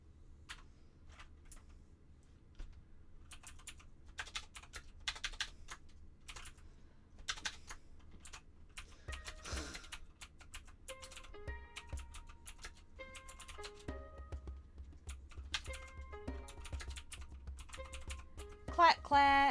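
A computer keyboard clicks and clacks in uneven bursts of close typing, quieter at first and busier toward the end, with no speech.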